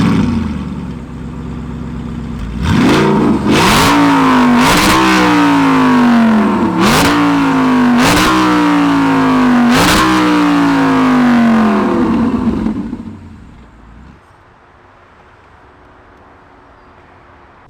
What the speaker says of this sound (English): I'm not gonna leave you without actually turning the car on so you can hear it